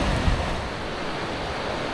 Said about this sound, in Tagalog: Maliligo tayo nang umuulan, malalaki alon, high tide pala guys.